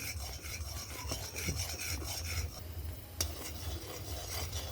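Ghee being stirred fast in a pan: a steady, rhythmic rasping scrape of the spoon against the metal over a low bubbling background, close up and with no voices.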